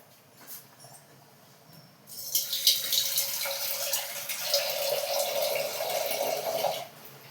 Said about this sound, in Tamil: கொஞ்சம் தண்ணி ஊற்றிக்கிறேன்.